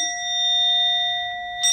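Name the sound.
people vocally imitating a bell ding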